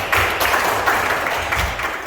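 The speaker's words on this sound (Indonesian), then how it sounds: "kita kasih tepuk tangan" A university class gives a short burst of applause for a group's presentation, many hands clapping together up close in a quick, dense patter.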